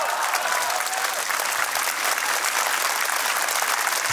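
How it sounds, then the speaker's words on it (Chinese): A crowd at an anti-extradition rally in Hong Kong's Eastern District applauds jailed protesters: dense, sustained clapping from many people, steady and loud throughout. "我哋喺呢度用鼓掌嘅方法去表達對佢哋嘅敬意"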